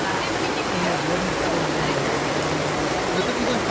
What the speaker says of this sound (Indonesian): sekarang hujan deras ya